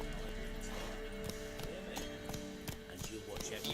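Horse galloping in The Witcher 3: Wild Hunt video game, with a quick, even rhythm of hoof clip-clops close up over continuous game ambience.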